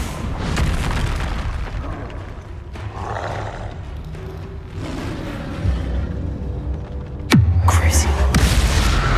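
Confringo spell explosions in the Hogwarts Legacy video game, inside the Feldcroft Catacomb; muffled booms and rumbles come first, then a sharp, loud blast near the end, with a voice casting between them.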